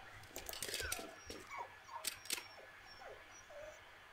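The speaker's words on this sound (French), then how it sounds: "Et il aboie comme un chien, quoi. Enfin, il chuchote comme un chien." A creature in the horror game The Darkest Words gives soft, breathy dog-like whimpers and yips, several short calls spread over a few seconds, faint against a dark ambient backdrop.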